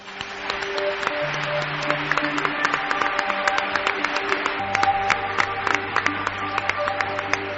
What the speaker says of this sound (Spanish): ¿cómo suenan los aplausos, amigos?